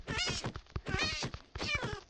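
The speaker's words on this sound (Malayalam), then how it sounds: "പൂച്ചേ" Three distinct Minecraft cat meows, each drawn out and slightly whiny, come in quick succession with short pauses between them.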